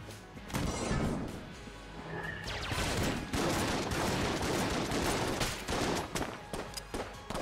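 A wind-up gun firing in the roguelike shooter Enter the Gungeon: a loud, steady barrage of rapid shots and impacts packed densely for several seconds, with game effects layered in and almost no talking.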